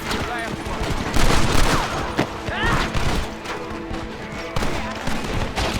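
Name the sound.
gunfire in video game Red Dead Redemption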